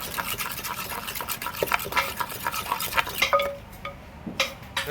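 Papaya salad being pounded and tossed with fish sauce and lime at a Thai street stall, a steady run of close wet thuds and scrapes in a mortar, thinning out near the end.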